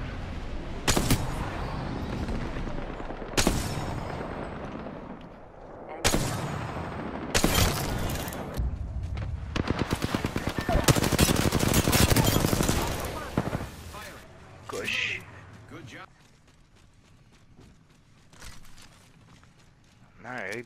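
Video game firefight with repeated bursts of automatic gunfire, loud sharp volleys spaced irregularly and sustained rapid fire in the middle, tapering to quieter scattered sounds toward the end.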